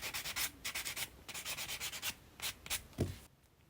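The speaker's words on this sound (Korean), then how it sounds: "샌딩 블록으로 매끈하게 표면 정리해주고요." A sanding block rubs over a fingernail surface in quick, close strokes, a dry scratchy rasp repeating in short bursts with a brief pause and a soft knock near the end.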